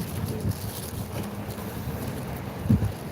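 Steady wind buffeting the microphone with a low rumble, gusting slightly near the end, with no other clear sounds.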